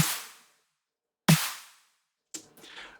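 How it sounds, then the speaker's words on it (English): Two layered snare drums struck together: two loud crisp hits with bright decaying rattle, followed by a softer, busier burst of hits at the end. "So together, the 2 snares sound like this."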